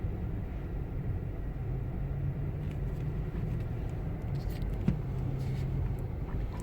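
A Tesla driven by hand on a highway gives a steady low road rumble and tire roar from inside the cabin, constant throughout with a faint knock midway.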